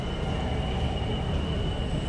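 A Singapore MRT train pulls into an underground platform with a steady rumble, rolling wheel noise and a faint high whine, loud and continuous with no voices.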